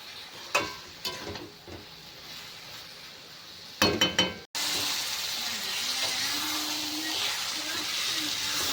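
A few sharp clinks of a utensil against a pan, then a sudden loud, steady sizzle of bottle gourd and shrimp frying with spices, continuing with faint stirring.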